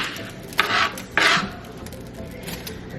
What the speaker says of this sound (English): I'm going to chop it up